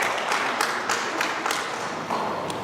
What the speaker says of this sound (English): Sarah, round of applause for Benjamin.